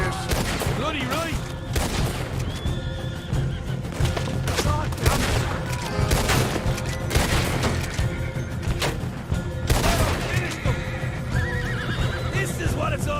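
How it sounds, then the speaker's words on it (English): Horses bolt, neighing and whinnying loudly amid clattering hooves, with bursts of gunfire and booming in a dense, busy Red Dead Redemption 2 soundscape. "Now those horses are bolting."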